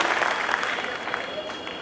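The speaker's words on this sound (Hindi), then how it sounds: "जोरदार तालियों से इजाजत दीजिए" A crowd applauds loudly and steadily, a dense wash of clapping that carries on for the whole stretch.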